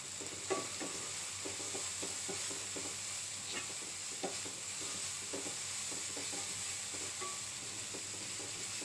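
Half a packet of Maggi masala cooks in a pan for rawa upma, with regular scraping strokes of a spoon stirring through a soft, steady sizzle, fairly quiet and close.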